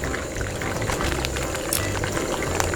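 Food coated with ice sizzles and crackles in hot oil at a campsite, a steady bubbling hiss with scattered pops, fairly quiet and close.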